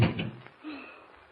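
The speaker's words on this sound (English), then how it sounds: "Close the door quickly and lock it, will you?" A door slams shut in an old radio drama sound effect, one firm close at the start with a brief follow-up knock of the latch or lock, then a quiet room tone.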